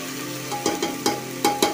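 Rice grains sautéed in ghee for coconut rice give a soft sizzle, with a few distinct stirring scrapes as the spoon moves through the pan.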